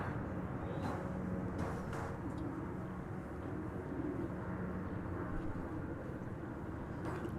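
An American Eagle CRJ 701 ER regional jet at DFW airport makes a steady, continuous engine roar with a low rumble throughout, broadband and fairly distant, with no talk over it.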